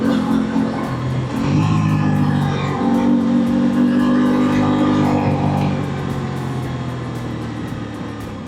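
Motorcycle accelerating hard during a test ride on the road, a loud, sustained engine roar with rising revs and steady wind noise, holding strong throughout before easing slightly toward the end.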